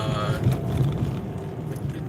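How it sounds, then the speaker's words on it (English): A small Mitsubishi Mirage engine runs in a driveway, a steady low rumbling hum close by, with a faint voice briefly over it at the start. "engine's a little loud sometimes. It's a little angry guy. Little Mitsubishi Mirage."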